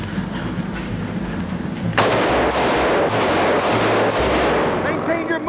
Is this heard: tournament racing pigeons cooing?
no